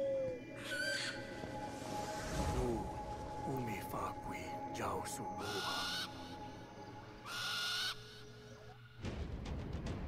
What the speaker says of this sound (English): Nice owl.